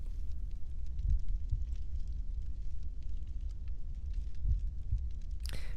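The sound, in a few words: heartbeat sound in the background, from the video game The Longest Journey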